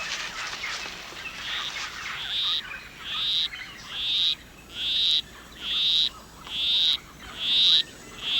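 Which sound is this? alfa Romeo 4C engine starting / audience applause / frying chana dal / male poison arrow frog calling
male poison arrow frog calling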